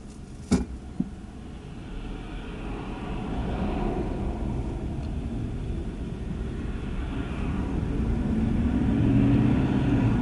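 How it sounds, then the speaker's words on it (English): Steady low road rumble from inside a car driving through heavy morning traffic on the way to work, a continuous drone that builds slightly toward the end, with a brief knock near the start. "now we're getting into some heavier traffic here"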